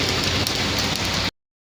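Rain falls steadily during a trip to Ooty, a dense close patter lasting just over a second before stopping abruptly.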